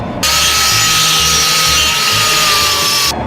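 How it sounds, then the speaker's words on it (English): A power grinder cuts down small metal tabs during an FJ45 rock crawler build, a loud, steady, close grinding whine lasting about three seconds with abrupt start and stop. "Have to grind for them little tabs, aren't we?"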